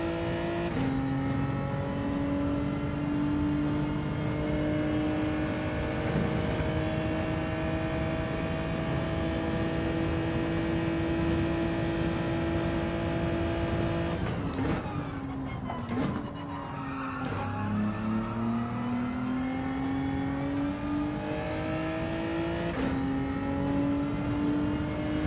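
Race car engine in Gran Turismo 7, a steady high droning whine held for long stretches, then dropping and rising again through gear changes with brief tyre-skid noise, loud and close, no voices.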